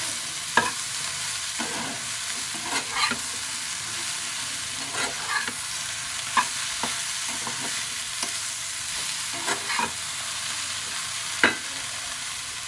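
Okra stir-frying in a pan at home, a soft steady sizzle with scattered sharp clicks and scrapes of stirring at irregular intervals, close and fairly quiet.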